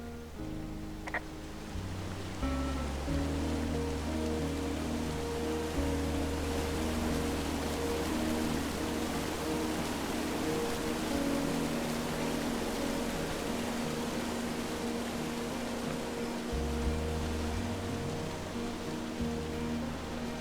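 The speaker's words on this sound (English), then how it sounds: "It's a really nice waterfall down here." A waterfall in the video game Firewatch gives a steady, full rushing roar of falling water throughout, with soft low background music underneath and no talking.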